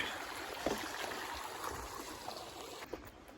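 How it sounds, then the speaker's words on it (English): Water flows steadily in a soft, continuous trickling rush near a small bridge on the Appalachian Trail, moderately close, with no voices. "the sound of some water"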